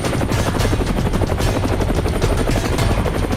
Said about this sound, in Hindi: हमने इस शख्स को हेलीकॉप्टर में बिठाया और फौरन चल पड़े।